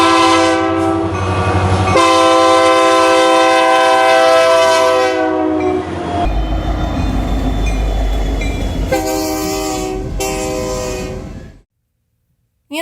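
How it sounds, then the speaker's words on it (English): A Canadian Pacific EMD SD90MAC diesel locomotive's Nathan K3LA multi-chime horn blares in a long sustained blast over rumbling engine and rail noise, then sounds again in two shorter blasts before cutting off. "the standard horn for the units would be the Nathan K3LA."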